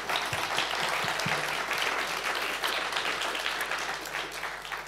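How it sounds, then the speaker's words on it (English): Audience at a livestreamed talk event at Urban ICT Arena applauding steadily for several seconds, a dense wash of clapping heard from a middle distance. "Give him an applaud."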